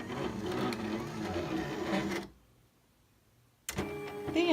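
Silhouette Cameo 3 cutting machine kiss cutting stickers, a steady whirring, grinding motor drone up close that cuts off into near silence for over a second, then resumes with sharp whining carriage movement.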